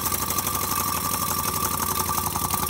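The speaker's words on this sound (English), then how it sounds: "As I remove the heat source from our Stirling engine, the reciprocating motion generated by the piston begins to slow down." A small multi-cylinder Stirling engine runs after its heat source is removed, giving a dense steady mechanical whir with fast ticking, close and fairly loud, and no slowdown shows within the short stretch.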